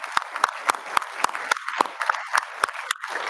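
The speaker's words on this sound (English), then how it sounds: "So a huge round of applause to our judges for all their effort." A crowd at a startup pitch event applauds the judges, a broad wash of clapping with a few close, crisp individual claps striking at a steady beat on top, fairly loud.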